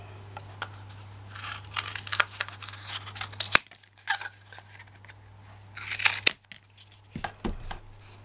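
Scissors snip through a cardboard toilet paper roll in quick bursts of crisp cutting and crunching, with a steady low hum behind and a brief pause partway through.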